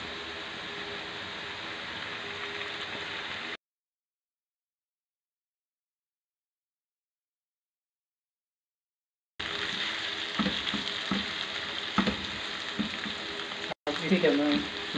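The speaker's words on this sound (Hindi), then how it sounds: "अब इसमें कटी हुई सब्ज मिर्च और टमाटर डालते हैं" Chopped green chillies and tomatoes hit a hot frying pan, giving a steady sizzle that cuts out to silence, then returns with stirring clatter and brief bursts of activity.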